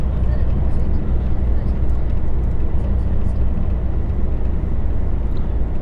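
HGV lorry crawling up a hill, heard from inside as a steady, loud low engine drone and road rumble that holds unchanged throughout.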